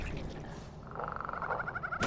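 A frog croaking in the video game Mortal Shell: a short run of rapid, rhythmic croaks that grows clearer toward the end, fairly quiet over a low game ambience.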